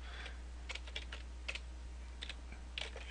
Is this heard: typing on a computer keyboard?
yes